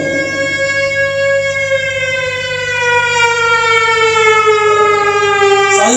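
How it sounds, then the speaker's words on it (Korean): An air raid siren wails in Ukraine, a loud sustained mechanical tone that slowly falls in pitch over several seconds, steady and unbroken with a faint background hum and no voices. "이게 무슨 소리냐면 공습경보 소리입니다."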